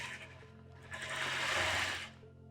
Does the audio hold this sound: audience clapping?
no